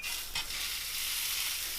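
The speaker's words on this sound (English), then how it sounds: "So you can hear that sizzle." Seasoned stuffed chicken Florentine, placed seasoning side down, sizzling steadily in a hot heavy skillet, a close, continuous hiss of frying with a brief stir-like bump early on and no speech.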